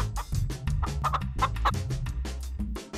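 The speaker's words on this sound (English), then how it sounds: "Check out them roosters walking there." Roosters walking about on Eleuthera in the Bahamas, clucking in rapid, choppy bursts that come close and clear over a low steady rumble of background noise.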